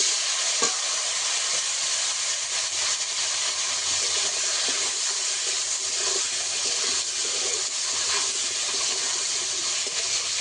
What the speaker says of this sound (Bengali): ফোড়নে দেবো কালো জিরে, কাঁচা লঙ্কা, কেটে রাখা আলু দিয়ে দেবো।